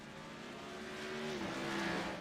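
Race car engine rolling down pit lane at Mid-Ohio in a racing game, a steady buzzing drone that grows slightly louder and dips in pitch, with no voices over it.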